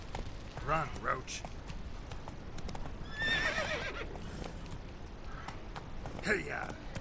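Horse hooves clip-clop in The Witcher 3 as the rider urges the mount on, with whinnies and neighs breaking through and game voices talking over the rhythmic hoofbeats.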